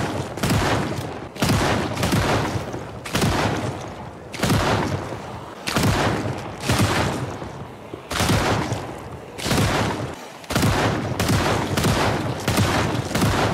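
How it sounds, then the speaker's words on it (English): Gunfire in the zombie-survival game Project Zomboid, fired at zombies with a trip-and-shoot technique: about a dozen loud, sharp, evenly spaced shots roughly a second apart, each trailing into a short echo, with no talking. "Trip and shoot, a very efficient technique to use to save ammo"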